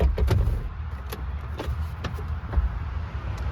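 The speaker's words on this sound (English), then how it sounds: "Now folding down the seats is pretty easy. You pull this lever" Rear seats of a 2025 Jeep Wrangler Willys being folded down inside the cabin, with a lever pull and several sharp clicks and thumps of seat hardware over a low, steady interior rumble.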